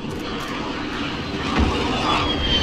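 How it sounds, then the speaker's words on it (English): A jet aircraft roars overhead in the Call of Duty: Warzone video game, a steady, loud broadband rush that builds slightly toward the end, with no voices over it. "Take care of this stupid jet."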